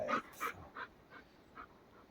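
A dog panting outdoors at a red deer rut site, several quick breathy puffs spaced across two seconds, faint and fairly distant.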